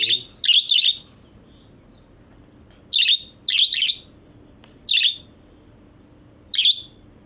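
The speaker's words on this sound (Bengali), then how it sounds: "দেখতে পাচ্ছেন অনেক সুন্দর সুন্দর বাজিরগর পাখি" Six caged budgerigars chirp in several loud, close bursts of shrill, rapid chatter, separated by short quiet gaps, with no talking.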